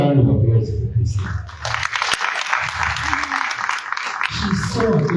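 Audience applause for speaker Priscilla Mujamba at a sophomore orientation, a broad wash of clapping that swells midway and carries on steadily, with voices talking over the start and end.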